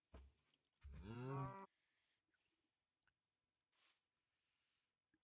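A cow in a Minecraft modpack lets out one loud, drawn-out moo, followed by scattered soft mouse clicks and brief game sound effects in otherwise quiet surroundings.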